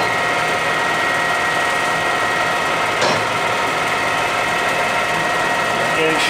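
A Clausing Colchester 17x80 lathe runs in high gear in reverse, a continuous loud mechanical hum and whine with steady tonal drone throughout and a brief click midway.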